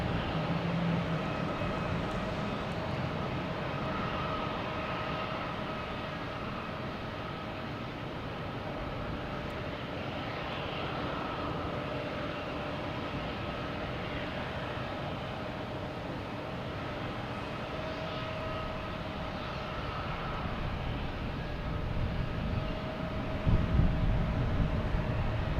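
A JetBlue Airbus A220 jet arriving at Boston Logan gives a steady, moderately loud engine drone with tonal whine, holding evenly for the whole stretch and swelling slightly near the end, with no talking.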